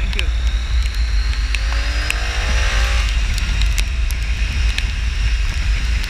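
A car drives past on a bad hilly road in monsoon weather near Chikmagalur, heard from a motorcycle ride, with a loud steady rumble of wind and engine noise and a rising and falling pass in the first few seconds.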